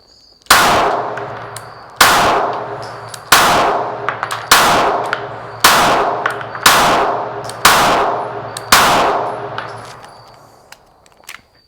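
A Springfield XD-S Mod 2 pistol fitted with a red dot sight fires eight sharp, evenly spaced shots at close range, each one ringing out with a clanging echo before the next.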